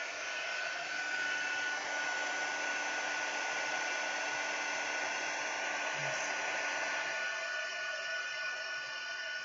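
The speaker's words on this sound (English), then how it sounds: "Quick blow heat gun job." A handheld heat gun blows steadily at close range, a continuous loud rushing hiss of hot air held at an even level for the whole stretch, with no talking.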